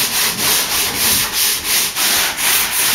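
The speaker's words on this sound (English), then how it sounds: "the lads are now sanding the edges of various sections." Hand sanding along the edges of wooden sections for a Kenyan top bar beehive, a loud, close, rhythmic scratching with about nine even strokes in quick succession.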